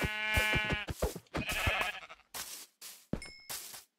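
Several sheep in the Minecraft video game bleat in short wavering calls, a few distinct bleats spaced across the moment, fairly close and clear with game sounds between them.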